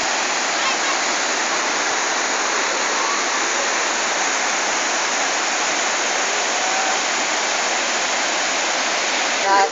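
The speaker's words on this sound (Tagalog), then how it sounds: "Kung nakikita nyo ang Mahihay Falls." Majayjay Falls roaring steadily, a dense, loud, unbroken rush of falling water close by that fills the whole stretch without pause.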